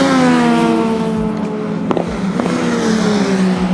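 Race cars on a racing circuit roar past in succession, their engines whining with falling pitch as each one passes, loud and continuous with no voices.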